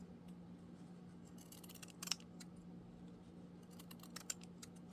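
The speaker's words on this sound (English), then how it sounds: "I'm going to trim that down just a little bit closer to the tag" Scissors trim excess paper around a Halloween tag, making a few faint, crisp snips over a quiet room hum.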